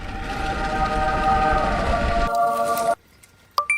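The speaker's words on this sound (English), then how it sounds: "So let's put a track through it and send the train inside." LEGO toy train running through a tunnel, a steady rumbling run with a whistle-like tone that cuts off abruptly, followed by near silence and a few faint clicks.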